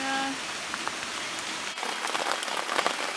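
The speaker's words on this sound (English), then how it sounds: "It has been pouring rain all day long" Heavy rain pours on tents at a campsite along the Northville–Lake Placid Trail, a steady dense patter of drops drumming on fabric, close and continuous with scattered louder individual hits.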